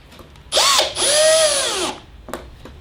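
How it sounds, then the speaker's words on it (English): A power drill whines up loudly in two bursts, drilling into wood while building a drawer, its pitch rising and bending as it bites, then stops, followed by a couple of faint clicks. "we're just drilling into"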